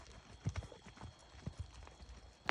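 Horse hooves clip-clop on fresh arena dirt in a round pen, a few irregular thuds spread across the clip, fairly close and moderately loud, with a sharper knock at the end.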